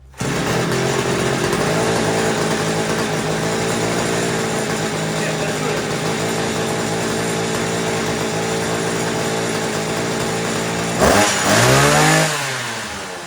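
A Dnipro-M petrol engine runs steadily after servicing, a loud continuous idle with a rough buzzing tone, then briefly revs up and drops back near the end.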